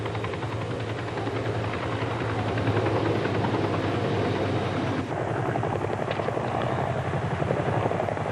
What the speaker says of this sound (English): The loading phase commences with the arrival of the helicopter force at the pickup zone